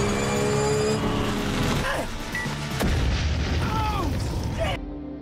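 Video game car chase: engines roar and a loud boom tears through a convoy of cars, followed by skidding tires and scattered crashes before an abrupt cut to quiet.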